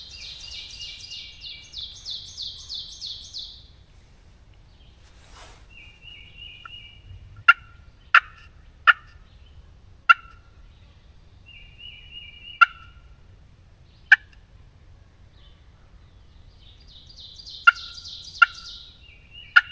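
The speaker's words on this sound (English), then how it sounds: "I hear some gobblers" Wild turkey gobblers gobble at a distance on a spring morning, rolling bursts repeating a few times, along with occasional sharp bird calls over a faint low outdoor rumble.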